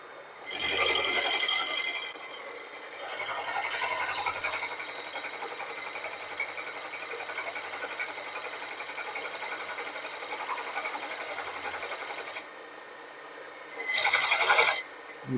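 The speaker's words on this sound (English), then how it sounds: "I wanted to machine a slot of some kind for whatever reason." A milling machine cuts a slot with a steady, buzzing whir that holds for over ten seconds, bracketed by louder bursts at the start and end of the pass.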